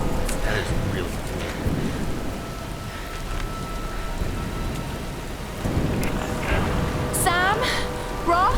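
Steady rain pours in a Tomb Raider video game scene, a dense hiss with rumbles of thunder rising and falling, while a voice talks over it intermittently.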